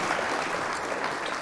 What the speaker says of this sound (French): Une main d'applaudissement, putain!